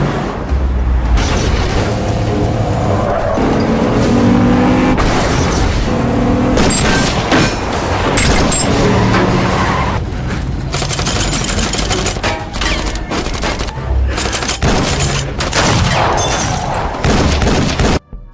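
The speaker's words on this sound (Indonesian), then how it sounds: "Dari belakang mobil mereka diikuti, dan akhirnya aksi kejar-kejaran campur baku tembak pun terjadi di sini." Film sound effects from a car chase with a gunfire shootout, made of loud, dense, continuous bursts of automatic gunfire and heavy booms layered over roaring action noise, with no talking.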